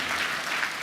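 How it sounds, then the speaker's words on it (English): Steady applause from an audience at a book presentation and graduation lecture, a dense even patter of many hands clapping throughout, close and unbroken. "May we please clap for him."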